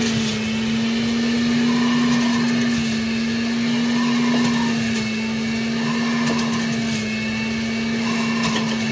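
A kitchen blender runs continuously, loud and close, whirring steadily with a strong motor hum as it blends dragon fruit for a juice, with no talking over it.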